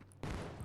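Gunfire erupts in the Indian Bike 3D video game, a sudden dense burst of shots that cuts in after a brief quiet moment and continues as a sustained rattling volley.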